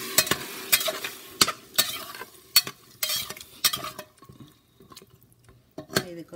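Eggplant stir-fried in a pan for a tamarind curry with drumstick: repeated scraping and stirring strokes over a soft sizzle, nearby, loud at first and fading to quieter intermittent stirs.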